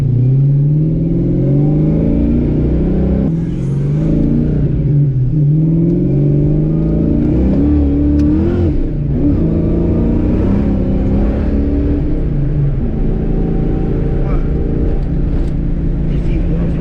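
A stock 302 Ford Mustang on a 30-year-old nitrous kit accelerates hard in third gear, its loud engine droning and climbing steadily in pitch close to the microphone, with voices talking over it.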